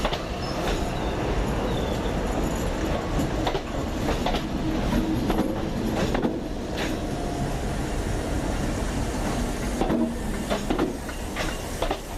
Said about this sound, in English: so that's 32417 departing Newton for Motherwell